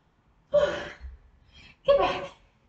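Two bursts of heavy, gasping breaths during a recovery pause in a 30-minute home HIIT workout, loud and close with a short quieter stretch between them.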